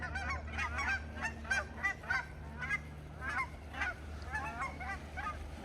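A flock of snow geese honks in the New Mexico outdoors, a busy overlapping chorus of nasal calls at moderate distance over a steady low background rumble.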